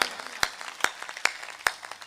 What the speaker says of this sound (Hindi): एक बार तालियां बजाओ मस्ती में